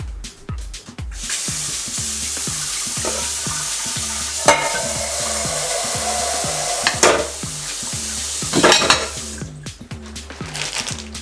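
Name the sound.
sausage frying in a frying pan on stovetop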